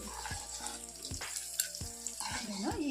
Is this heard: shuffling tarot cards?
no